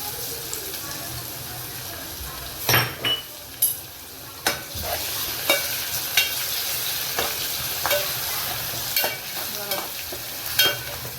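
Onions fry as ginger-garlic paste goes into the pan for a mutton rassa, a constant close sizzle broken by repeated scraping stirs and occasional sharp clinks of the spoon.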